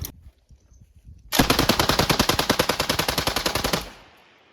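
A PKM machine gun fires one long, rapid burst of evenly spaced shots, loud and close, after a few quiet shuffling sounds, then the echo fades.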